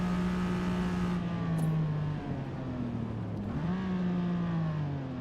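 A race car in Forza Motorsport drones steadily at high revs, its engine and exhaust note dipping briefly around mid-clip as it shifts, then climbing again, loud and continuous with no talk.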